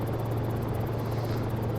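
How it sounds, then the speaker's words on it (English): Cicare-8 light helicopter in the X-Plane flight simulator, its rotor and engine drone steady and loud throughout, with a strong low hum and rhythmic blade pulsing, no voices. "What a fantastic little helicopter."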